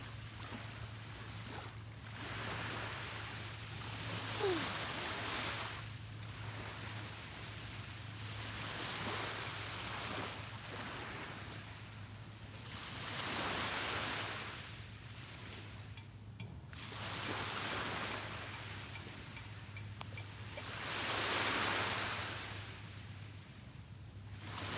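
Ocean waves break on the shore in slow, repeating swells, each rising to a soft roar and ebbing away, with light wind noise and a steady low hum underneath, and no voices.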